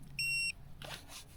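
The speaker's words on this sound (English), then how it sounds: "It will beep to let you know that it has turned off." An iSpring smart leak detector water shutoff valve gives a single clear electronic beep, a steady tone lasting about a third of a second, followed by faint handling and rustling noises.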